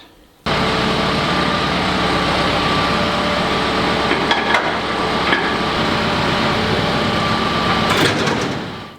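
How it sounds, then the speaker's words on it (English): Tractor engine running with a topper mower for orchard mowing, a loud steady mechanical drone that starts abruptly and continues with occasional clanks and rattles. "So let's go and get the topper on the tractor and make a start."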